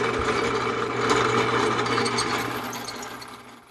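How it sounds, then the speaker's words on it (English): A steady mechanical whirring and grinding as a power drill bores out steel bumper brackets on a 1962 Ford Monterey Custom, running continuously at close range with no talking. "So I'm going to finish drilling these out."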